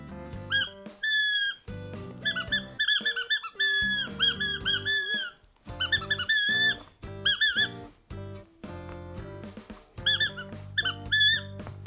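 A rubber squeaky toy bought in Japan is squeezed again and again in quick bursts, giving sharp, shrill, high squeaks in uneven clusters with short pauses between, loud and close with no talk.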